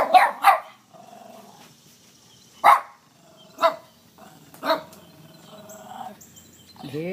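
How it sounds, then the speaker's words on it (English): A dog barks in short sharp bursts outdoors after a fishing trip with bass and catfish, several separate barks spaced a second or two apart with quiet gaps between them. "There's little Ava barking at him."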